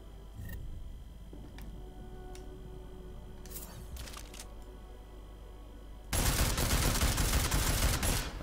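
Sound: combat rifle gunfire at targets in Deus Ex: Mankind Divided video game

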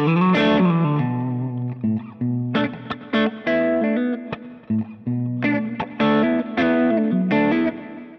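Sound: electric guitar through Kemper DMBL profile overdrive channel

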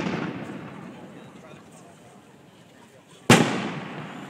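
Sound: fireworks exploding

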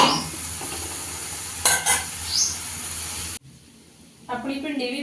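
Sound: okra and onion frying in a pan

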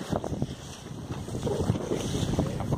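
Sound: wind blowing outdoors

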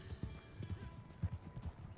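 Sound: horse sounds in a video game

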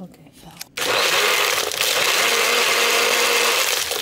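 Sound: small handheld blender mixing matcha

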